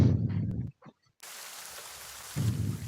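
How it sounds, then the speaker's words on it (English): Heavy rain pours down outdoors on a cold, rainy day, a steady hissing downpour broken by a brief near-silent gap, with low rumbling bursts at the start and end. "It is a very heavy rain."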